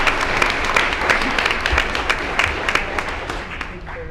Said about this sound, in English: You have to clap for transportation too.